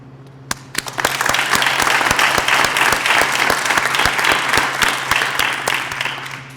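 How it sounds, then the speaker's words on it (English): Audience at a foundation donor scholarship breakfast bursting into applause for the donors, starting with a few sharp claps before swelling into loud, steady crowd clapping that holds to the end. "Please join me in giving a big round of applause for our donors joining us here today"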